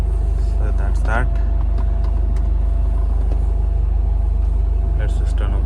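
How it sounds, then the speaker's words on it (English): Steady low rumble and whooshing hum of air conditioning running inside the cabin of a Honda City, continuous and fairly loud, with a brief voice-like chirp in the middle. "Let's just turn off the AC, making some noise."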